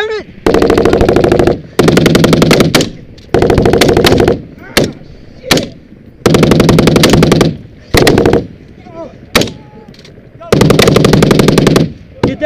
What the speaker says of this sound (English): That gun in action, let's go!